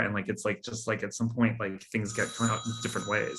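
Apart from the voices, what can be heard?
old 1920s-style hotel telephone ringing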